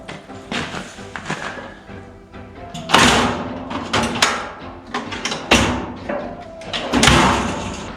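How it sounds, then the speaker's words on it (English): A metal drawer from a Harbor Freight tool cart, packed with cardboard, is pushed back into the cart in a workshop, giving several loud clattering thumps and slides across about eight seconds. "Put the drawer in, got some cardboard in there."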